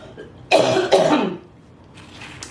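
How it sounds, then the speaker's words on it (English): Two close, rough coughs in quick succession from dusty potting soil, followed by quieter breathy noise. "This soil is very dusty, guys. It always makes me cough."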